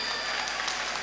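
Crowd at an outdoor stage show with a film actress applauding, a brief, steady patter of many hands clapping at moderate volume.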